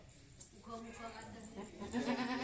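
A Javanese goat bleats a few times amid a farmyard scene during breeding, with people talking nearby over steady background noise.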